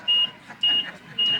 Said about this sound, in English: Somebody must pull the fire alarm.